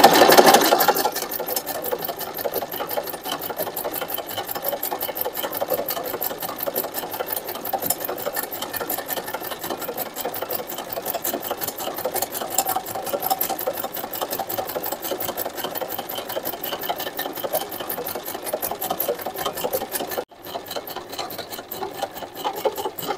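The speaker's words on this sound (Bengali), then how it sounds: "এখন আমি সেলাই করব" A Singer SM024 sewing machine stitches embroidery in a fast, steady, rapid needle chatter that runs continuously and close for over twenty seconds, pausing briefly near the end before resuming.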